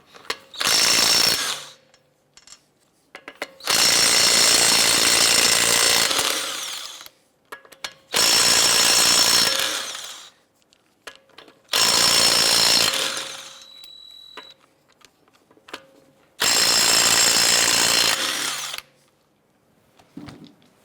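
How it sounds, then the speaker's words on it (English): Power impact tool with an 18mm socket removing lug nuts from a 2010-2018 Volkswagen Jetta wheel, five loud buzzing bursts of a few seconds each, separated by short quiet pauses. "Using an 18mm socket, I'm going to go ahead and remove the lug nuts."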